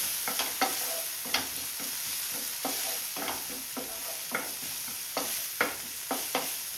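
Tomatoes for shakshuka sizzle softly in a pan while a utensil stirs them, scraping and tapping against the pan in an irregular rhythm over the steady frying hiss.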